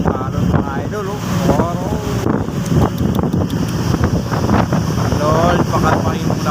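Strong wind buffeting the microphone on a boat crossing rough sea, with the rush of waves and the boat's motion running steadily throughout while someone talks over the noise.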